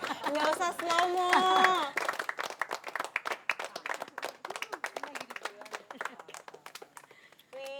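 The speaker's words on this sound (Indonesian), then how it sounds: "Tepuk tangan dong" A group of people clap their hands in a quick, dense burst of applause lasting several seconds, with voices heard briefly before and after.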